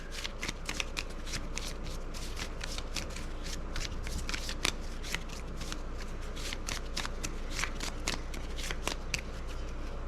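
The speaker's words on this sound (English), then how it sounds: "we put in barrier grenade bundle 3, gets shuffled into the deck" Cards shuffled into a deck during a tabletop wargame, a continuous run of crisp riffling flicks and papery snaps, close and fairly quiet, with no talk over it.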